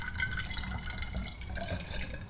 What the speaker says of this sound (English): I added some water to the carafe here, and now let's just fill up the tank